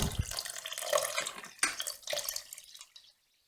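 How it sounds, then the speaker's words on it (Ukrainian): Water splashes and gurgles as it is poured into a one-liter jar for crushed grape must, a steady trickling stream with a couple of sharper splashes before it cuts off abruptly. "додаю по літрі, по літрі води на 7 літрів"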